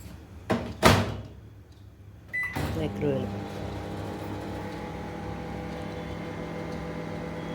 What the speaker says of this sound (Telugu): కన్వెక్షన్ కాదు, ఓన్లీ మైక్రోవేవ్లో.